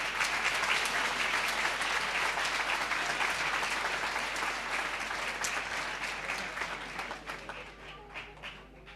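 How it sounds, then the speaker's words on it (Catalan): An audience gives loud, sustained applause at the proclamation of a fair's festival queen, dense clapping that holds strong and gradually tapers toward the end. "Demane un fort i merescut aplaudiment per a ells."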